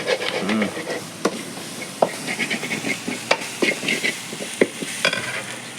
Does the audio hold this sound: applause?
no